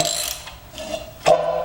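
An old, stiff Brinly sleeve hitch disk turns on its bolt, giving a short metallic ratcheting creak with a sharper clunk near the end, close and fairly quiet.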